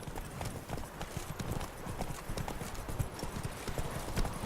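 Steady clip-clop of horse hooves at a quick, even trot in the video game The Witcher 3: The Wild Hunt, continuous and fairly close, with faint background noise throughout.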